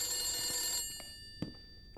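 A telephone rings in the 1970s-set horror video game The Beast Inside, with steady bright bell tones filling the first second, then fading and leaving a quiet room with a few soft knocks.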